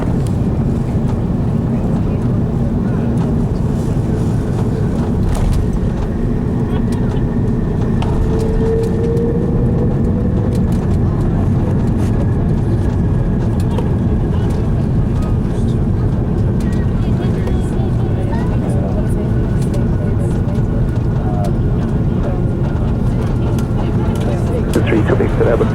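An Airbus A330-300 sits on the runway for takeoff at Chicago O'Hare, a loud, steady jet engine roar with wind buffeting the microphone and voices talking over it.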